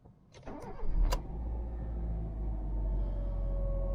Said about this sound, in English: Starts as you'd expect a Honda to start